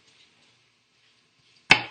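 A knife chops food on a cutting board in a home kitchen, one sharp single chop near the end after near silence.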